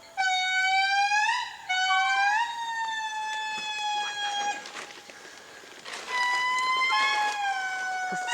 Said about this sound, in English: That sound can be heard for miles away, and it's the way for indri to announce its claim to this part of the forest.